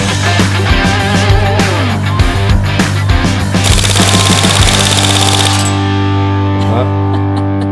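Airsoft guns firing outdoors on a hot day, with rapid bursts of sharp cracks and clicks in quick succession over a steady background hum, loud and close, then thinning to a few scattered shots.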